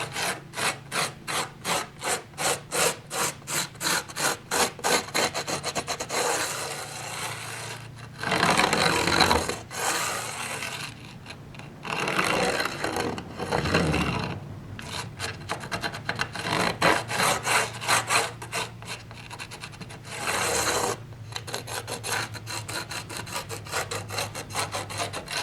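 Fingers rub loose ballast grit along model railway track, making close, rhythmic scratchy rasping strokes broken by a few longer, denser gritty scrubbing bursts, with no voices.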